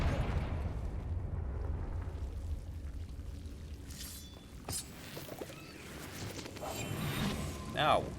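A Confringo fire spell goes off in Hogwarts Legacy as a short, fiery blast followed by crackling debris. It rises out of a rumbling ambient bed, and a voice talks nearby.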